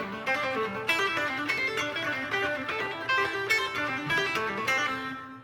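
Guitar playing a fast pentatonic string-skipping lick in a lesson setting, a steady stream of quick notes at even volume, near and alone with no talking.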